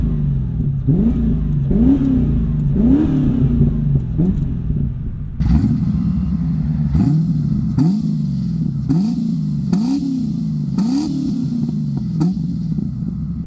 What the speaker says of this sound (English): let's go ahead and take it on the road and see how she drives.